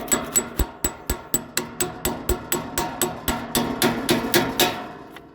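A hammer taps a new bolt and bushing into a trailer suspension, striking about twenty times in a steady rhythm. The blows are sharp, close and metallic, and they sound alone with no talk.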